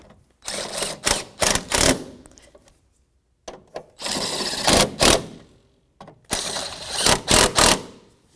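Bolts with 10mm socket heads are snugged up with a socket wrench on an extension on a 2008–2012 Jeep Liberty front shock, giving three loud, close bursts of rapid ratcheting clicks with brief pauses between them.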